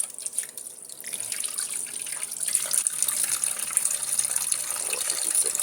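Tap water runs steadily while a transmission pan from a Mazda Skyactiv engine is washed out with soap in a sink, a continuous close hissing gush with light splashing and no talk.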